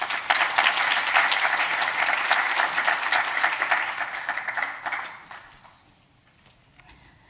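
An audience applauds to welcome a lecture speaker at a talk on machine learning in cancer immunotherapy, a loud dense clapping that holds steady for about five seconds, then fades out into near silence.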